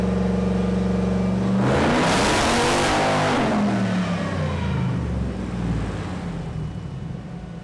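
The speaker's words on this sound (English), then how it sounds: "We'll make one more pull, hopefully get some good numbers and see what the car makes." A Mazda with a swapped stock 5.3 engine revs hard on a dyno pull, the loud engine note sweeping upward in pitch and then holding a steady roar as the run continues, with no talk.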